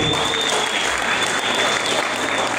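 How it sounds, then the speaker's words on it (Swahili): An audience of people in Njiru clapping together, a dense, steady burst of applause that fills the whole moment without pause. "Hebu watu wa Njiru mjipigie makofi."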